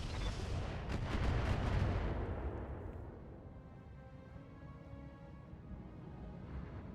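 Heavy mech weapons firing in RogueTech, a BattleTech mod, a loud salvo of booming shots and blasts in the first seconds that decays into a long rumbling tail, with no speech.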